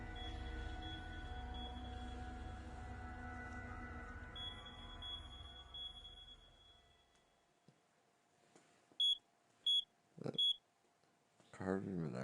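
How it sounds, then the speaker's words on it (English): A carbon monoxide alarm gives three sharp, high, evenly spaced beeps after a stretch of low background noise, followed by a short burst of other sound. "Carbon monoxide alarm."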